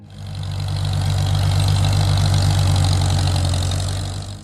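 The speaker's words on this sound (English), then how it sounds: "Its four-cylinder engine ran smooth and quiet, with a gentle rumble that became the soundtrack of rural America for more than a decade." A Farmall H tractor's four-cylinder engine idles steadily with a low, smooth rumble, close and loud, holding an even tone without any talk.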